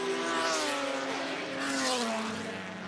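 Lister and TVR historic race cars braking and turning through a chicane at a classic car event, engines loud and close with a rising and falling drone as they pass one after the other.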